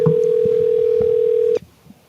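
A radio call-in telephone line gives a single steady electronic tone lasting about a second and a half, then cuts off abruptly to near silence.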